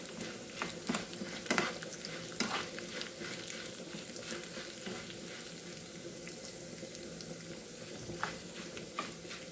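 Dried red chillies frying in oil for an Andhra-style Malabar spinach dal, giving a soft continuous sizzle with scattered crackles and pops, close but fairly quiet with no voices.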